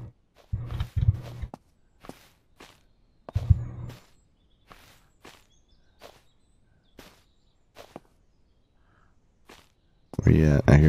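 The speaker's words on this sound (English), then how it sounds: "I hear footsteps." Footsteps in the survival video game Surroundead land as scattered soft thuds, with a louder burst of noise at the end.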